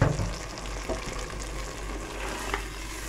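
Hot tempering poured over cooked fava beans for foul, a steady low sizzle and frying hiss with a loud initial burst that settles into continuous crackle, close by, no talk.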